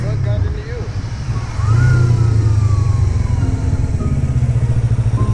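Yamaha R3 motorcycle engine running close by, a loud steady drone that swells as it revs up and holds a throaty hum, with a voice talking over it.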